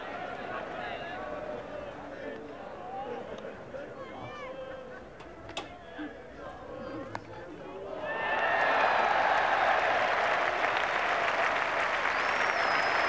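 Crowd at a 1981 England Test cricket match breaks into cheering and applause, quiet at first beneath a commentator's voice, then swelling into loud, sustained clapping and roar for the final few seconds.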